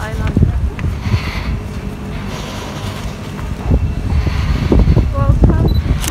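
Wind buffets the microphone on Kusu Island, Singapore, a steady rumbling roar throughout at close range.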